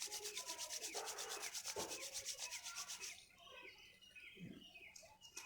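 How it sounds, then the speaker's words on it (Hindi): Two palms rub briskly together during a yoga eye exercise, a rapid rhythmic swishing lasting about three seconds, close and fairly loud, before fading to softer rustles. "एक बार वापस रब करें।"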